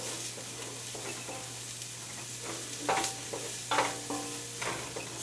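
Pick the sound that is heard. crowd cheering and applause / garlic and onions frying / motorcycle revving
garlic and onions frying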